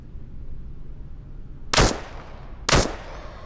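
Two sharp, loud pistol shots in the shooter game Into the Radius 2, spaced about a second apart, each a crisp crack with a brief echoing tail over a quiet background.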